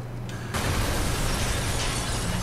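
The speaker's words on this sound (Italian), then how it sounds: "la resa dell'esplosione è buona." An explosion goes off inside a closed garage in the Watch Dogs video game, a sudden loud blast that settles into a dense, sustained roar of rumbling debris for about two seconds, with no voices.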